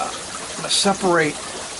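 Water sloshes and splashes in two short bursts as lettuce roots are rinsed by hand, close and fairly loud against a quiet background.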